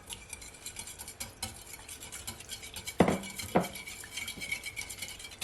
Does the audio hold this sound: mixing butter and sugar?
yes